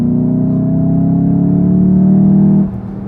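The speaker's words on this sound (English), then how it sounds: "If I want to hit the gas" A 2019 Volkswagen Jetta GLI engine pulls hard in third gear, a loud steady droning hum rising slightly in pitch before dropping off abruptly as the throttle lifts.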